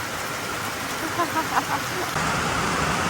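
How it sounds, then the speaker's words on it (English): Steady heavy rain pours down in a continuous hiss, with a few faint splashes and knocks. "I'm glad it's raining."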